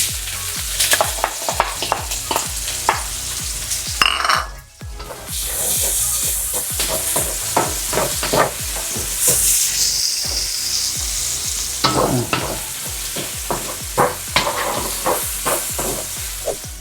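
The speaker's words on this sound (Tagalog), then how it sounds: "Magigisa na tayo ng onion and garlic." Onion and garlic sautéing in a pan for chicken afritada: a continuous close sizzle and crackle, broken by repeated clinks and scrapes of a utensil stirring against the pan.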